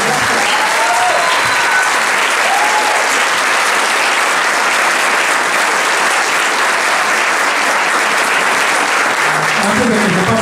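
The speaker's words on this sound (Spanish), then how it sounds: "Un aplauso muy fuerte para todos ustedes." Loud, dense applause from the audience at a ceremony honouring women leaders' philanthropic work, sustained steadily for about ten seconds with crowd noise and a few voices mixed in.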